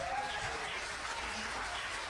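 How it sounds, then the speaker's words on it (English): A comedy-show audience applauds and cheers in a steady, dense wash that holds for the whole stretch, with a voice cutting in over it near the start. "Round of applause for this guy."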